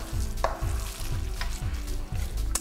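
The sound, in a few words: stirring lentil walnut veggie burger mixture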